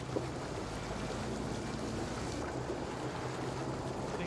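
Wind gusting over choppy river water on the Henley rowing course, a steady broadband rush with a low rumble beneath, carrying on evenly throughout with no speech.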